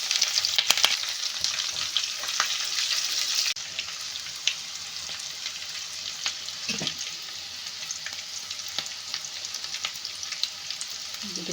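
Green chillies, dried red chillies and curry leaves crackle and sizzle in hot tempering oil for a curd rice seasoning, a steady close frying hiss with brief stirring scrapes and no talk.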